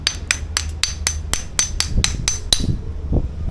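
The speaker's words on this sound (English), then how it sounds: "I got my trusty little hammer." A small hammer taps a metal fishing-weight mold open, used for casting weights from recycled wheel weights: about ten crisp, evenly spaced metallic taps, then a few duller knocks.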